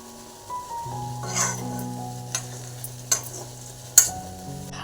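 Oil sizzles steadily and foams white in an iron wok while a utensil stirs and scrapes, with a few sharper clinks and knocks along the way; no talking.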